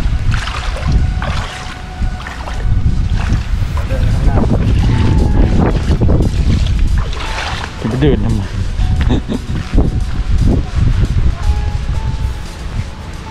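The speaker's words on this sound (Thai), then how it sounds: "เสียงลมดังมากนะครับฟังแทบจะไม่ได้ยินเลย" Strong seaside wind buffets the microphone at a beachfront spot in Sriracha, a loud continuous rumble of gusts running the whole time, with a voice talking over it.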